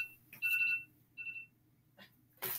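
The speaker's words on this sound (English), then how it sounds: "That is my alarm." Two short electronic alarm tones sound, quiet and close, separated by pauses, with a brief rustle and a burst of noise at the end.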